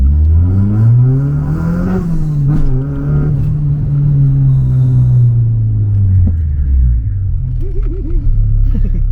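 A Honda Civic EG with a B18C Type R engine revs hard and close, its loud note climbing, holding steady at high revs, then dropping away near the end.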